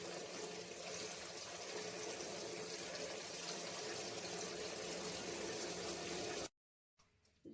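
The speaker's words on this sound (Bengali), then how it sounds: "এই পুরো জলটা আমি ঝরিয়ে একদম এটা শুকিয়ে নেব।" Water from soaked biuli lentils (split black gram) pours off steadily as they are drained, a continuous close gushing that stops abruptly near the end.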